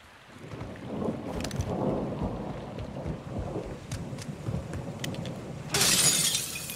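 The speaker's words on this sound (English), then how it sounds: "It's raining fucking hard." Heavy rain and a thunderstorm in the Call of Duty Modern Warfare II game: dense steady downpour with rolling thunder rumbles, sharp crackling strikes and a loud burst near the end.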